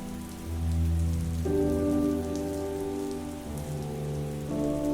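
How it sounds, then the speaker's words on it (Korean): Rain falls steadily in a soft, even patter on a quiet rainy day, heard alone beneath a low, sustained musical tone. "비는 계속해서 내린다."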